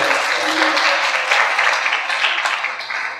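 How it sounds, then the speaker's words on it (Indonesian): An audience at a conference talk claps in a loud, dense, sustained round of applause that tapers slightly at the end, with a faint voice underneath. "Tepuk tangan sekali lagi untuk dia."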